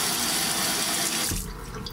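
Tap water runs steadily as a loud, close rush to rinse developed medium-format black and white film, then eases to a quieter trickle near the end.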